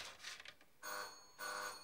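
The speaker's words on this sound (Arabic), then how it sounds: "على العادة البشعة اللي فيكن حرقتوا لي الجراس" A doorbell rings indoors in two separate bursts, each a bright, fairly faint electronic ring lasting about half a second, with no talk over it.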